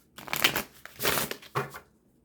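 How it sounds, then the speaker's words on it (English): A tarot card deck being shuffled by hand, bursts of crisp riffling and papery slaps in three quick passes, close and fairly soft, with no talk. "It shuffles really easy, actually."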